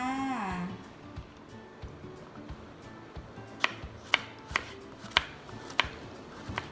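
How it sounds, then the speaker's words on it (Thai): A knife slices garlic cloves into thin rounds on a cutting board in a home kitchen, giving a series of crisp, evenly spaced taps heard close and fairly quiet. "หั่น กระเทียม เป็นแว่นนะคะ"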